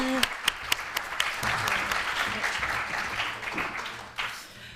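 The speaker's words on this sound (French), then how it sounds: "on peut les applaudir." Audience applause after a keynote talk at a conference session, beginning with a few sharp separate claps that swell into a steady wash of clapping, with faint voices mixed in near the end.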